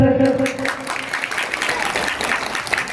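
Dense applause from an audience at a Mahadev Parvati festival gathering in Yeklara, steady clapping that fills the whole stretch, with a voice briefly heard at the start.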